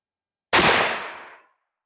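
A single loud, close .444 Marlin rifle shot from a CVA Scout V2 break-action, a sharp crack followed by a roughly one-second fading outdoor echo, with no talking.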